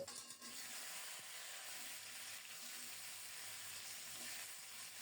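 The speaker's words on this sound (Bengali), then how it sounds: "গোটা গোটা আলুগুলো কিছুক্ষণ ভেজে নেব" Whole boiled, peeled potatoes fry in oil with cumin and a bay leaf, giving a steady, fairly quiet broadband sizzle that holds evenly throughout with no talking.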